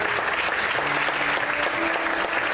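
A church congregation claps together during an evening worship service, a steady wash of applause with some tonal sound like music or voices underneath.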